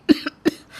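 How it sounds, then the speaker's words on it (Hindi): A man coughs twice, sharp and close, the first burst followed by a small catch, then a second short cough, with faint breathy noise trailing after. "आपको बड़ी खांसी आ रही है"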